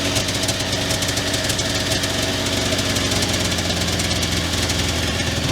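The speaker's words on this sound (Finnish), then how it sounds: "Onkohan tyhjäkäynti vähän korkealla?" A 33-year-old Lynx Cobra 500 snowmobile engine idles close by with a loud, steady, rattling drone that holds unbroken throughout.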